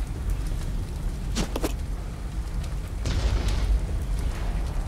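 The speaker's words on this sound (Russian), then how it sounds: "Там типа что-то сзади где-то взрывается так, с глухим шумом." In the video game Resident Evil 0 HD, muffled explosions sound somewhere behind, dull low booms and bursts rising over a constant rumbling background, faint rather than sharp.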